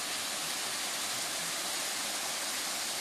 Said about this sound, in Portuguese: Essa é a última cachoeira do dia.